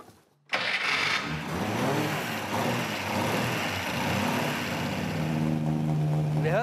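A vintage BMW car engine catches after a cold start on choke, firing up abruptly after a brief quiet moment and settling into a steady, loud, close running idle.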